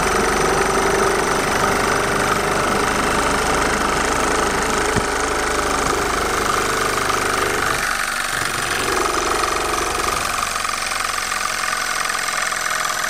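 A balanced railcar Stirling engine runs on torch heat with a steady, close mechanical hum and rhythmic knocking, its drone thinning briefly near the end before continuing.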